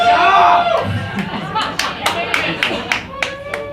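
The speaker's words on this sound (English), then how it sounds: "My dad is applauding the heckler" A single comedy-club audience member claps in a series of sharp, separate hand claps, rising out of a murmur of crowd chatter and laughter.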